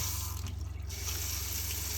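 Water runs steadily from a tap into a sink in a converted bus, a continuous close hiss and splash with no talk.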